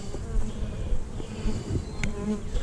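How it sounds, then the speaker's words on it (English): Bees buzz around an opened beehive and its inner cover, a close swarm of overlapping wing drones rising and falling, with a soft tap or two of handling. "Got a few bees in the inner cover."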